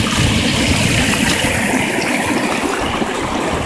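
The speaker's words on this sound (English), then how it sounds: "That's a lot of water. Going down through there." Rainwater runs down a washed-out driveway like a creek, a loud, steady, broadband rush of flowing water heard up close and without a break.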